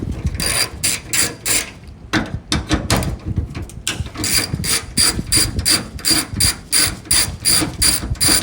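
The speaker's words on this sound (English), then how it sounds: "let's go ahead and take off two 10mm bolts for the camera" Ratchet backing out two 10mm bolts from the backup camera of a 2nd Gen Toyota Tundra TRD PRO: rapid rhythmic metallic clicking in close, loud bursts with brief pauses between strokes.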